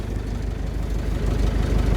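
A warmed-up ZIL truck diesel engine idles steadily nearby, a low, rough, continuous rumble with faint knocking pulses and no talking.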